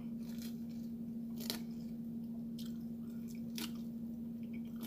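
Close, intimate chewing and crunching of salad during a casual mukbang-style meal, with a few sharp crisp bites standing out over a steady low background hum; no talking.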